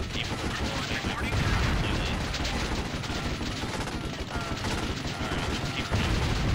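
Medium cannons on full-track heavy units firing in the real-time strategy game Warzone 2100, a dense, continuous barrage of overlapping shots and explosions that holds steady and loud throughout.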